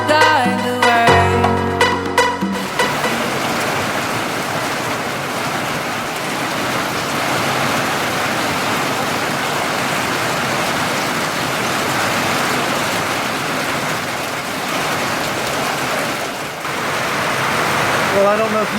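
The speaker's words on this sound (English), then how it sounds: "but it's raining." Heavy rain pouring down on a country property, a loud dense steady hiss of rainfall that fills the whole stretch after a brief burst of music at the start.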